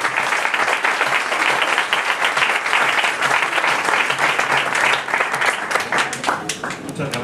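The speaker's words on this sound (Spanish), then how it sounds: "simplemente os pido un aplauso para ellos" Sustained audience applause fills the room at a skeptics' talk in a Madrid pub, dense and loud with steady clapping throughout, tapering slightly near the end.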